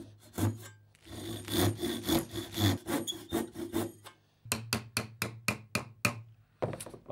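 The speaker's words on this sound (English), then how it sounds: "And we'll just follow that with our tenon saw." A tenon saw cuts through a wooden dowel for a dining table build, with raspy back-and-forth strokes in bursts, then a run of quicker, sharper strokes, close and alone without talk.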